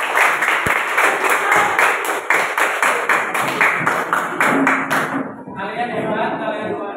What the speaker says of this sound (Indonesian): tepuk tangan dulu dong buat kesehatan